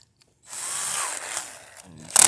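A power drill whirs steadily for about a second and a half while two brothers hook up a she shed and playhouse, its motor then tapering off before a brief harsh burst at the end.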